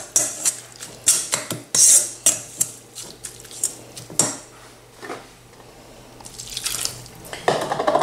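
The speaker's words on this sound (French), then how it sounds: "Je rajoute un peu d'eau pour former une petite sauce" Water splashes and pours into a bowl of shrimp fritter batter with clinks of a utensil against the dish, a series of close, sharp taps and a longer pouring wash toward the end.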